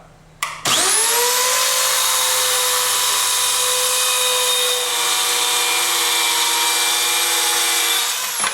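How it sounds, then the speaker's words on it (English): A Rockwell Versacut mini circular saw snaps on and spins up to a loud, steady high whine as it cuts through material, holding for several seconds before starting to wind down at the end; close by, no speech. "depress the base plate onto the surface of the material and make your cut."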